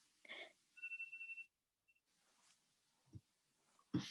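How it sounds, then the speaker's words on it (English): A phone alarm gives a short, faint electronic ringing tone with a brief chirp after it, then a few soft thumps in a quiet room. "I have an alarm on my phone that tells me when I have to take this COVID-19 survey"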